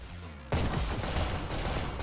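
Gunfire in the VR shooter Hyper Dash erupts after a half-second lull into a dense, sustained burst of rapid shots that stays loud and continuous to the end.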